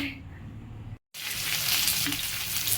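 Okra and potato curry cooks in a pan in a small home kitchen, a loud continuous sizzle and frying hiss close by, briefly cut to silence and then resuming stronger.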